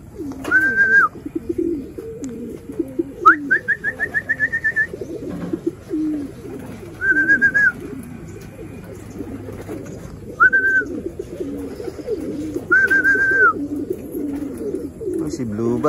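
Racing pigeons back from a race coo in low, repeated throbbing calls close by, with occasional higher chirps, while someone talks throughout.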